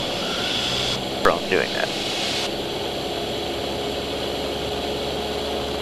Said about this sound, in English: slowly increase the power because the engine's going to be a little cool